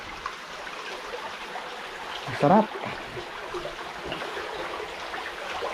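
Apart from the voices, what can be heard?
flowing water at a rock formation spring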